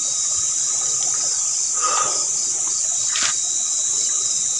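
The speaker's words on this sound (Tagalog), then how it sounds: "Ilog na pala siya dito guys." River water flowing through a grassy rural area, a steady broadband rush with faint trickling detail and occasional brief splashes, continuous throughout.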